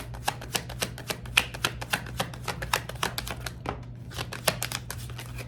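Tarot cards shuffled close by, a rapid even patter of crisp card riffles and taps running steadily over a low background hum.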